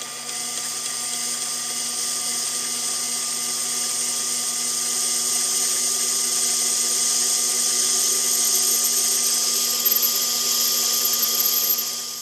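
A groove for a ball bearing being machined into a spindle column workpiece bore, a steady high-pitched whine of the cutting machine holding a constant tone, rising slightly in intensity toward the end, close and loud with no talk.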